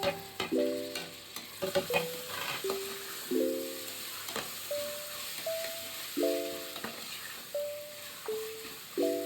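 Tomatoes and curry leaves fry in a pan for a chicken biryani, a soft continuous sizzle under recurring short tonal chirps and squeaks, with no voices.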